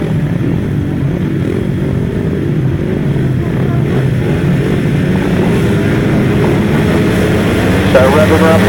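Grasstrack racing motorcycles roar and rev together in a dense, sustained engine drone at an outdoor race meeting, loud and unbroken throughout.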